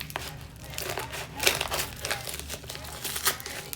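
Package wrapped in about ten layers of packing tape being torn and crinkled open, a steady close run of crackling, ripping rustles with a few sharper tears, no talking.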